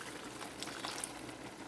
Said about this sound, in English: I'm going to add hot water